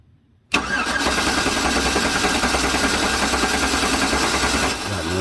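A 2009 GM truck engine cranks without starting: after a short quiet moment, a loud, close, continuous starter-driven churning runs steadily for about four seconds and then cuts off.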